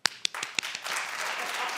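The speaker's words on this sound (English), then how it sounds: "But clap if you like Joseline" Studio audience applause starting with a few sharp, separate claps that quickly swell into a steady wash of clapping from many hands.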